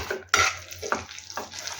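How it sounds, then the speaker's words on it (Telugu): A spoon stirs ground spice powder into onion chutney in a pot, giving a few scraping, clinking strokes close up with short pauses between them. "యాడ్ చేసేసుకొని అంతా ఒకసారి మిక్స్ చేసేసుకోండి."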